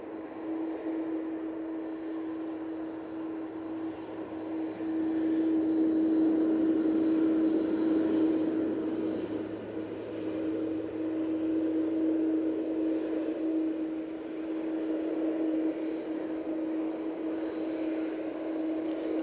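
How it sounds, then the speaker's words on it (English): Airliners taxiing at Manchester Airport, a steady distant engine drone with a sustained hum that swells and holds at moderate loudness. "we've got quite a few aircraft coming out now"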